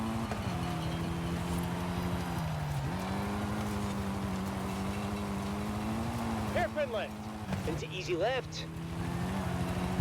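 A Mitsubishi Evo III rally car racing in Forza Horizon 5 drones with a steady engine note that dips with gear shifts and rises again, heard under continuous talk.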